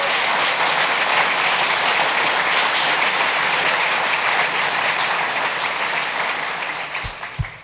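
Sustained, dense applause from a crowd at a government announcement event, steady and loud for several seconds before thinning out at the end.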